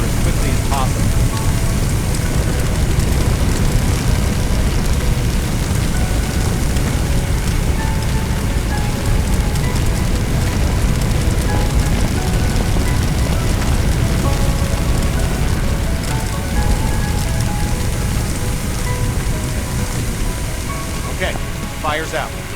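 A fire hose sprays water onto flames in the Firefighting Simulator video game, a loud, continuous rushing hiss, like heavy rain, that runs unbroken for over twenty seconds.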